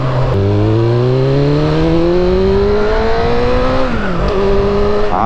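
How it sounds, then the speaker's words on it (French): A Suzuki Bandit 400 motorcycle engine winds up high and loud, its pitch climbing steadily through the revs, briefly dropping on a shift and then rising again. "C'est toujours aussi marrant de retrouver cette Bandit 400, ce moteur qui monte dans les tours en permanence."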